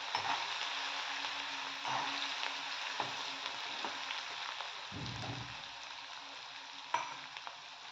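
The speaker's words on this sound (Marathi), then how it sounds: "मी यामध्ये वाटण टाकते वाटण छान आपल्याला लालसरपर्यंत होऊ द्यायचं आहे" Green chili and garlic paste frying in a pan for Khandeshi brinjal bharit, a faint, even sizzle with occasional soft stirring taps and a low thump midway.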